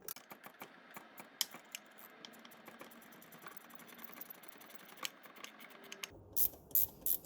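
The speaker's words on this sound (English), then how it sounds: "with the other, tighten the puller bolt up" A hand tool tightens the puller bolt on a Ford Focus mk2 AC compressor, producing quiet, close, repeated ratcheting clicks in an irregular rhythm, with a few louder knocks near the end.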